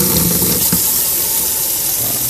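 Cold water running from a tap into a plastic bottling bucket for home brewing beer, a steady loud rushing hiss throughout with no talk.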